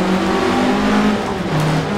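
Formula Ford race car from Assetto Corsa, a 1967 Russell Alexis Mk.14, its engine droning loud and close with a steady, slightly wavering pitch throughout.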